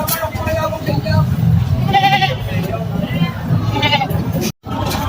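Goats bleat repeatedly at a busy livestock market in Padre Garcia, loud and close, their calls rising over a constant bed of crowd chatter and people talking.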